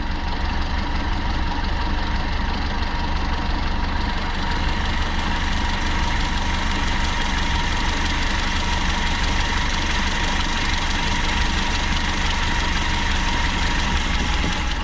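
A Toyota Liteace engine idles steadily while its carburetor air-fuel mixture screw is adjusted, giving a continuous, close, even mechanical drone with a faint knocking texture throughout and no voices.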